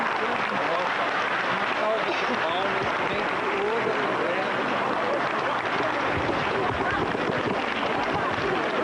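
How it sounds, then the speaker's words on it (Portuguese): Many mourners applaud the coffin of Sérgio Motta at his wake, loud dense clapping mixed with crowd noise and voices in a crowded, chaotic space. "o caixão do corpo de Sérgio Mota, sendo aplaudido nesse momento por muitas pessoas que estão aqui acompanhando o velório"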